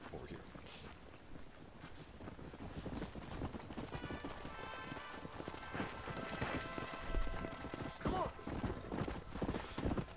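Steady horse hoofbeats clip-clop through the Red Dead Redemption video game, with a whinny among ambient wind. Someone talks over the game sound.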